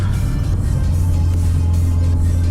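A Mitsubishi Evo with a rerouted engine bay gives a loud, close, steady engine drone with a strong low hum, holding under load for a couple of seconds.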